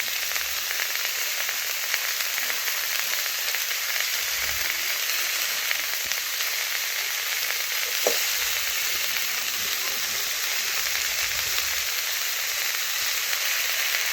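Pointed gourd, pumpkin and potato sautéing with turmeric, chilli, ginger-cumin paste and salt in a pan, a steady close frying hiss running throughout with faint stirring and one brief clink, no voices.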